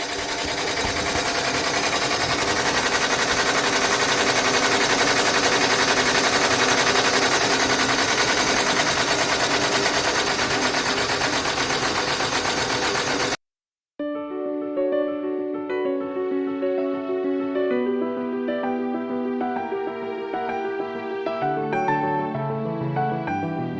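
A home embroidery machine stitches a design with a dense, steady mechanical whir that runs loud and unbroken, then a brief pause gives way to melodic tones like a completion chime or background music.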